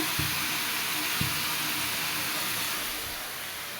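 Garlic, ginger and cumin paste sizzles in a hot pan while meat is cooked at night, giving a steady, even hiss of frying that holds throughout with no voices.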